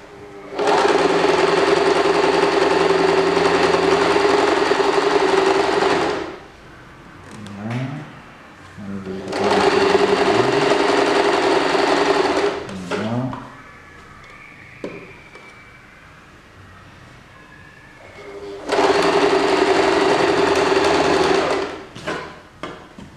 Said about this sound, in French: on fait attention que la couture soit bien régulière